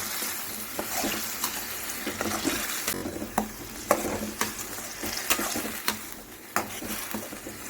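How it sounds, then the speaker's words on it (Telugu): Spice paste with curry leaves frying in a pan for an onion-chili drumstick curry: a steady, close sizzle with repeated scraping stirs throughout. "పేస్ట్ వేసుకున్నాం కదండి, పచ్చి వాసన పోయేదాకా ఫ్రై చేసుకోవాలి"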